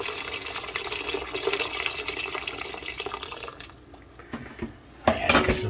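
Hot boiled water pours into a pot for smoked beef barley soup, a steady close splashing and trickling stream that thins out, pauses, then resumes briefly with a bright splash near the end.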